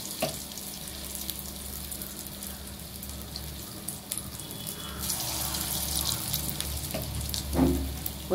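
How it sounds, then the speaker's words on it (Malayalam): Rava bonda, small semolina batter balls, fry in hot oil with a steady bubbling hiss, broken by a few louder pops and spits close by. "ആ എണ്ണ ചൂടായി വരുന്നുണ്ട് മാവ് പൊങ്ങി വരുന്നുണ്ട്"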